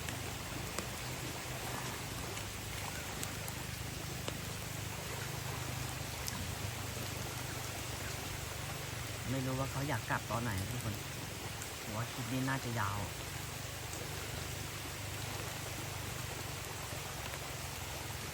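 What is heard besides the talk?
rain falling by a stream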